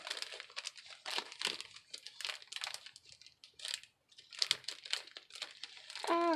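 A paper envelope is crinkled and rustled in repeated bursts while paper is tugged out of it, close and crisp, with brief pauses and a short voice at the end.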